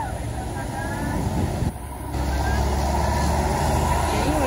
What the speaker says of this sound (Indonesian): Dari bawah ada bus Patriot teman-teman.